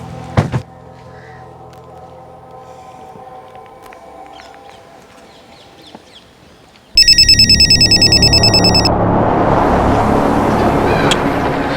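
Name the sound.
telephone ringing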